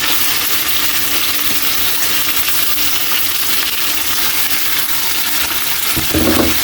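Pork and garlic fry loudly in a hot pan, a dense, constant sizzle close up, with a brief clink or stir near the end.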